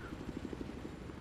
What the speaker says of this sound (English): So we are now in a helicopter